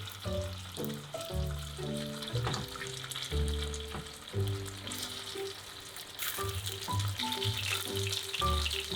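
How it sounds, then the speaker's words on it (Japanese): Food shallow-frying in a frying pan with about a centimetre of oil, a constant close crackling sizzle running under light background music. "フライパンに油を1センチ程度引いて揚げ焼きにします"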